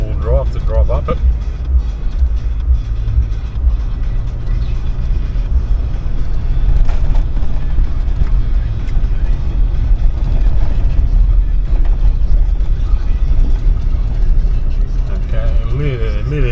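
A car climbs a steep rainforest road in the Daintree, its engine and road rumble steady and close throughout from inside the vehicle, with a voice talking over it.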